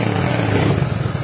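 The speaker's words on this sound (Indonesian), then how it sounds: "Coba saya akan matikan, saya akan starter." A Honda Vario 150 scooter engine, its starter reported to work only intermittently, catching and idling, a short close mechanical putter with a low rumble and light clatter, no voices.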